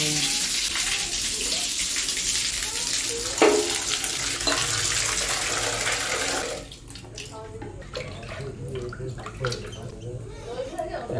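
Water pours steadily into a home fish tank, a loud gushing splash that cuts off partway through, leaving quieter trickles and handling noises; a voice speaks briefly near the middle.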